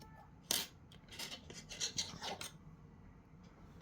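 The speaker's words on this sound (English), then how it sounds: "I'm just going to cut the extra yarn from here" Scissors snip away extra yarn from a crochet necklace, giving a sharp opening cut followed by a run of soft rasping, rubbing snips at close range, quiet and without any talking.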